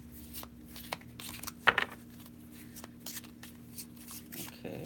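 A brief burst of card shuffling, a quick riffle in the middle over a faint steady hum and low room noise.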